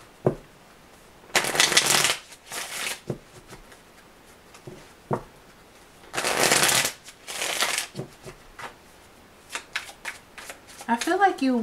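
Tarot cards are shuffled in two long, loud riffling bursts with a few shorter card flicks and taps between, sitting under and between a reader's talking.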